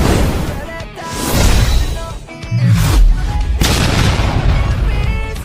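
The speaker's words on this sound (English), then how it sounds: "After a violent explosion" A booming explosion sound effect with a deep, rumbling low end and sustained roar, loud and continuous for several seconds, layered with crackling bursts.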